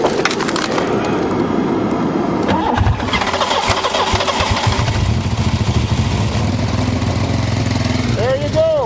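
Buick 3.8 engine in a car crushed by a 20-ton bulldozer, running loud and rough and revving up harder with more gas, with clattering knocks throughout and someone talking over it.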